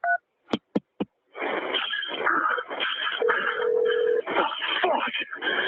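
A telephone dials to transfer a call to the fire department: a few short separate tones, then a busy stretch of line noise and voices, with a steady tone partway through.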